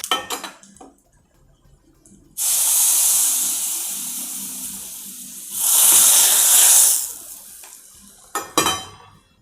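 Curry leaves, mustard seeds and dried chillies crackle and hiss in hot ghee, two loud bursts of sizzling with quieter spluttering and a few clinks of a pan between them.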